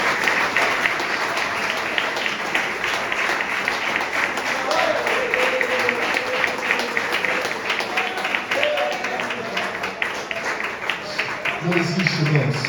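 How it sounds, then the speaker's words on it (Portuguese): Church congregation clapping in praise after a prayer, a continuous dense patter of many hands with voices mixed in underneath, steady and fairly loud across the whole stretch. "E as palmas louvem ao Senhor em nome de Jesus."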